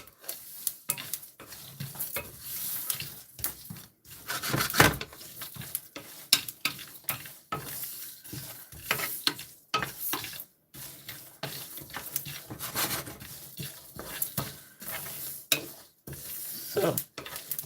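Food frying in a pan for about two minutes while a memory-boosting drink is prepared, giving a steady crackling sizzle broken by stirring and clattering, close and continuous with no talk.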